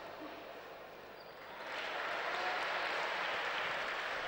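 Basketball crowd in an arena at a PAOK versus Maroussi game gives warm applause after a missed free throw, clapping swelling up midway and holding steady and fairly distant.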